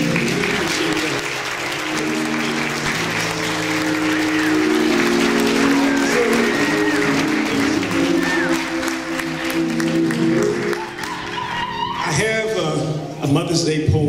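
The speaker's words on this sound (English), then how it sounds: "Gentlemen, if you wouldn't mind standing with me and just giving a hand clap for our mothers" Audience of men standing and clapping for mothers at a Mother's Day church gathering, steady dense applause throughout with voices and tonal background sounds mixed in, thinning out near the end.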